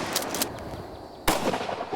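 A century-old Model 12 shotgun is fired at ducks, a single sharp, loud blast in the second half that follows quieter outdoor background with a couple of faint knocks.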